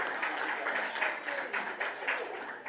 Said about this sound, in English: Another round of applause for all our students and Mr.